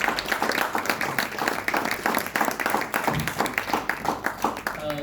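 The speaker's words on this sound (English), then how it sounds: "You can give them another round of applause." Audience in a hall applauds a theatre troupe at a Tagore event, a steady wash of many hands clapping at a fairly even level for the whole stretch, with no voices standing out.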